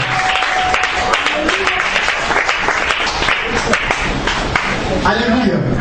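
A church congregation claps and cheers in dense, sustained applause, loud and continuous, with voices calling out amid the clapping.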